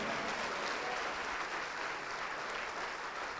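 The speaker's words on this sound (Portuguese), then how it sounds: "Vamos aplaudir mais ao nome do Senhor." Worshippers in a church congregation applaud in unison, a continuous, steady roar of clapping heard from a distance at low volume with no pauses.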